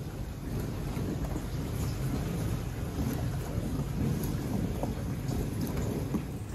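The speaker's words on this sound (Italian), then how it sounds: "La lavastoviglie è in moto, sentite il rumore." Dishwasher running a full cycle at maximum while powered by an Ecoflow Delta 2 Max portable power station, a steady sloshing, rushing water noise with a constant hum, unbroken and without talking.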